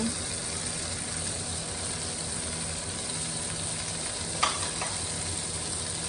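Cabbage fries with yellow and red peppers in a hot pan, giving a soft, steady sizzle throughout with one brief clink or scrape near the end.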